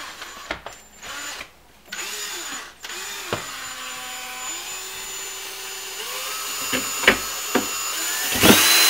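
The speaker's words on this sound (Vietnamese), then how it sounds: "bây giờ chúng ta tiến hành khoan một cái lỗ để đưa các cái đường ống" A power drill bores a hole for dishwasher pipes during a Kenmore dishwasher installation, its motor whining loudly and close, with brief stops and restarts, varying pitch as it bites, then several sharp knocks near the end.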